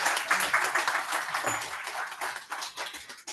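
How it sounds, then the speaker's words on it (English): Residents at a Green Street neighbourhood meeting applaud their local councillors: a moderate, continuous patter of many hands heard from within the room, thinning toward the end. "let's give them a bit of a round of applause"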